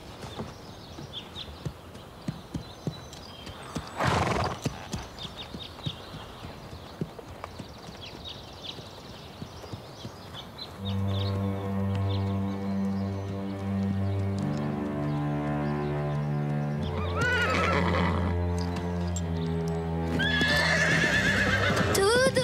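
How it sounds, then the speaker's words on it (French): Cartoon horse with hooves clip-clopping at a walk, then loud neighing and whinnying whose long cries repeat several times toward the end, set over a background music score. "On jurerait un autre cheval."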